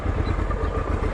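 A Honda Transalp 650 motorcycle engine runs steadily and close by, with a low, pulsing drone that holds even throughout the moment.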